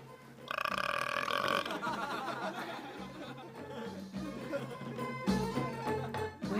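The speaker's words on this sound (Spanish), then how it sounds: "cuando a la gente le gusta mucho la comida, eructa en señal de aprobación" A loud, drawn-out burp rumbles through a comedic scene where people show approval of a meal, with laughter and chatter underneath and more voices continuing over it.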